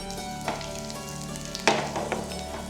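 Hot oil sizzles steadily with a few sharper crackles and pops as asafoetida and curry leaves hit the pan for a cucumber pickle tempering, close and continuous.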